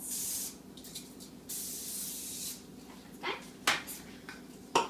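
Two sustained hissing bursts of cooking spray onto a baking pan, close up, followed by a few light metallic taps and clinks.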